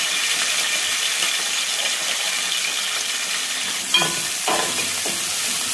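Onions, coriander and curry leaves frying in a pan, a steady hiss of sizzling with a few scraping stirs and small clinks toward the end, no voices.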